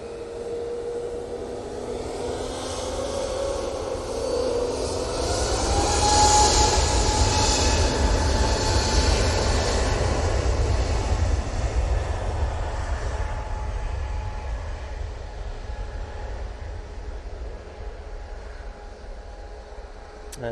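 An easyJet airliner takes off from Manchester Airport bound for Rome, a steady loud jet roar with a rising engine whine that builds over the first seconds and holds, distant and broad, with no talking.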